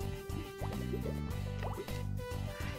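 Water sound effect standing in for a trout in a mountain river: a run of quick liquid drips and plops over a burbling watery bed, with soft music underneath.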